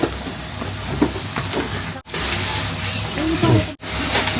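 Steady crackling sizzle of food frying in a pan in a home kitchen in Japan, continuous and close, with faint voices in the background.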